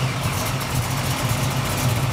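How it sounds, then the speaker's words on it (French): A 1973 Chevrolet Nova with a 350 cubic inch V8 and a 750 CFM carburetor idles loudly and close by, a steady throbbing low rumble with a continuous broadband roar over it. "va entendre cette Nova tourner un petit peu, ronfler un peu"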